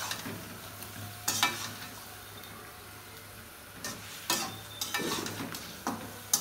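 Hilsa fish is stirred into hot, sizzling masala in a pan, with soft sizzling underneath and scattered bursts of scraping and clatter from the stirring, fairly quiet and with no voices.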